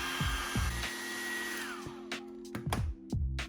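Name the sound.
hair dryer heating an iPhone XR display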